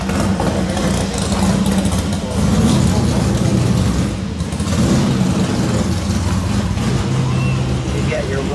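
A 1962 Plymouth Sport Fury in Ermine White idles with its 413 Wedge V8, a steady low rumble heard close up while people talk over it.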